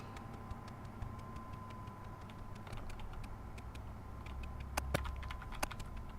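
Quiet typing on a computer keyboard, with sparse, irregular key clicks over a low background hum and a short quick burst of taps toward the end.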